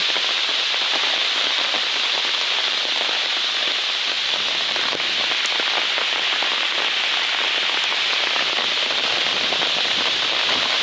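Steady, dense rain patters on a taut trekking umbrella canopy close overhead on a hiking trail, a continuous crackling hiss with scattered heavier drops.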